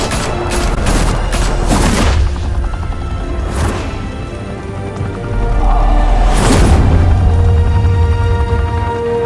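Gunfire rattles through a shootout in Batman: The Telltale Series, with loud, close bursts and sharp cracks repeating across the stretch over a dense rumbling backdrop.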